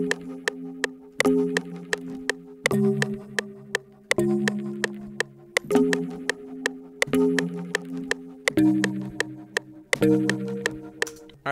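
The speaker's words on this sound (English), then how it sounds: "All right, so I found this cool pluck that sounds like this." Soft dreamy pluck synth from Omnisphere playing a slow progression of chords, each struck about every second and a half with quick decays and faint ticking accents, quiet and alone.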